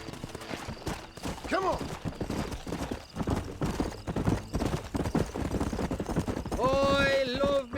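A horse gallops in the video game Red Dead Redemption with rapid, steady clip-clop hoofbeats up close, joined by a neigh, a whinny, and a voice urging it on.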